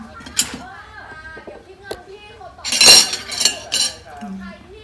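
Serving spoons clink against dishes during a rice meal in a few bright, scattered metallic taps, close and fairly loud, with people talking around them.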